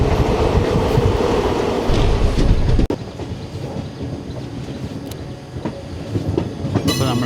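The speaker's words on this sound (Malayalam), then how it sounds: "കൃഷ്ണരാജപുരത്തിന് 37732 വരുന്ന ലോക്കോ." Locomotive 37732 rolls past close by with a loud, heavy rumble and rattle. The sound drops sharply about midway, then continues as a lighter clatter of wheels over rail joints.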